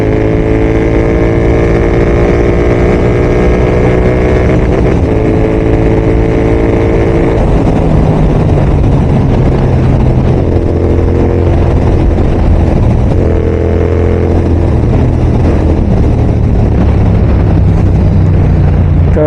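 A Royal Enfield GT650 twin-cylinder motorcycle engine pulls hard through the gears, loud and close, its pitch climbing in steady rising runs with brief dips at each shift, a constant roar with wind noise.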